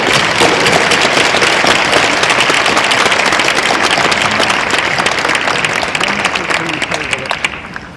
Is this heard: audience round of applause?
yes